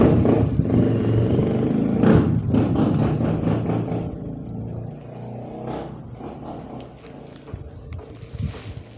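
Road traffic passes on a busy street out front, a rumbling wash of vehicles that swells loudly early on and then eases to a lower, uneven drone with some wind buffeting the microphone.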